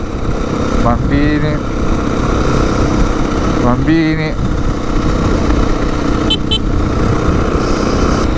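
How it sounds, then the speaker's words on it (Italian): A motor scooter on a Marrakech street gives off a loud, steady engine drone that fills the whole stretch, while voices talk over it. "un altro motorino"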